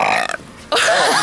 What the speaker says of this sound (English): Do you want to know why I burp so much?